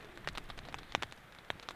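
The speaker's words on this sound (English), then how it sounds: "But it's raining a lot." Heavy rain falls outside at a campsite during a long trip by small speedboat, heard as soft scattered patters and sharper drips hitting a nearby surface, fairly quiet and irregular.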